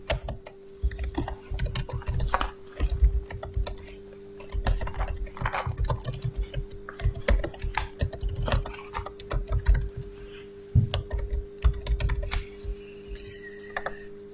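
Rapid typing on a computer keyboard while entering text in design software, with irregular bursts of clicking keystrokes close and clear, with short pauses between runs of keys.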